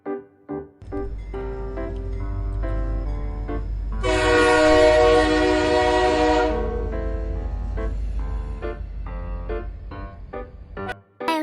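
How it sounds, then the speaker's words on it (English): A passing train in a children's vehicle-vocabulary sequence sounds a loud, sustained horn blast mid-clip over a steady low rumble and rhythmic wheel clatter, with no talking. "This is a train."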